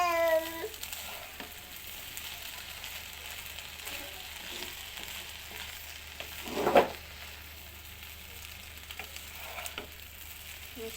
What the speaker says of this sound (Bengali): নেড়ে চেড়ে মিশিয়ে নেব।